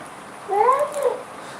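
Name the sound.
cat meowing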